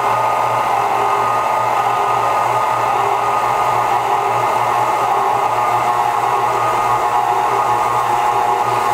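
A mixer steadily whirs at low speed through homemade marshmallow-free fondant, a constant even drone at close range with no pauses or talk.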